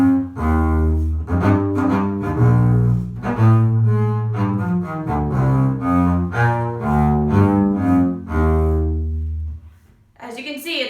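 Double bass bowed with long strokes using the whole bow, giving a scratchy, slightly rough tone; a continuous sequence of sustained low notes plays alone, steady and close, ending briefly after about ten seconds.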